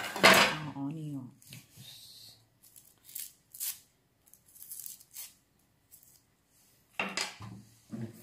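A knife slices onion on a cutting board while a Surigaonon-style squash dish is prepared, giving a few sparse, light chopping taps with long quiet gaps, with talking at the start and end.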